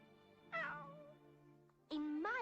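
A cat meows twice, loud and close: one drawn-out, wavering call followed by a second, higher meow after a short pause, with a soft tonal background hum between them.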